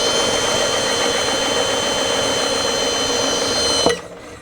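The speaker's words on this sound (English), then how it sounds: "I just have my drill on there on low speed, and I figure we'll just go spin that" A power drill spins a socket at low speed with a steady, high whine and rattle, running continuously before stopping with a sharp clunk near the end.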